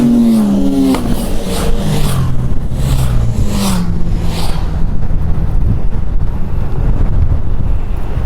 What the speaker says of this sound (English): Ooh, motorcycles.